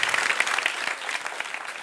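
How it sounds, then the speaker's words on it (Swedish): Audience at a Swedish science slam event claps for a speaker taking the stage, a brief burst of dense, close applause that fades slightly toward the end. "Här får du en applåd."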